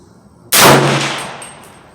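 A single loud 300 Blackout rifle shot with Barnes VOR-TX ammunition cracks sharply at an outdoor range, then decays over a second with a faint ringing tail.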